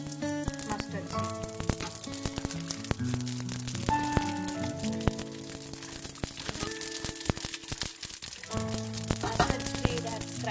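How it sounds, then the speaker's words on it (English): Mustard seeds and cumin crackling in hot oil for a puffed rice chivda, a dense continuous sizzle with fine pops throughout, a voice talking faintly in the background. "Mustard seed has crackled."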